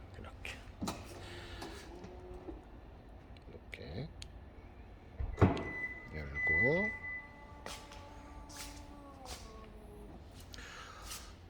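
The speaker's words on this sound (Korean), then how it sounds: "같이 잠그면서 문을 닫는 겁니다" Power tailgate on a Kia K7 hybrid closing and locking, a motor whir rising and falling with mechanical clicks and a firm latch thunk, heard close amid a voice.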